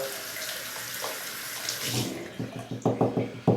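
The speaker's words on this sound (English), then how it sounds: "and then you rinse that off in water" Razor parts are rinsed under a running tap, giving a steady close splash of water that gives way to several sharp knocks as the pieces are tapped out.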